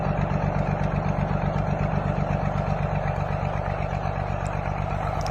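A freshly repaired tractor engine on a Kartar 4000 runs at a steady idle with a smooth, even diesel throb and faint mechanical clatter on top, close by, with no speech.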